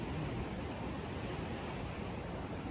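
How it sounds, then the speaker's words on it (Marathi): Steady broadband roar of sea surf washing continuously on the Konkan shore behind a temple, faint and distant, with no voices. "मंदिराच्याच मागे अथांग समुद्र किनारा आहे"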